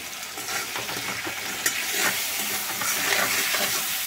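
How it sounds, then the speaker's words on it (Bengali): Spices and dried chili powder stirred in a hot frying pan with tomato, a steady close sizzle and hiss with scraping stir strokes throughout, no talking. "এগুলো খুব ভালো করে মিশিয়ে নিই"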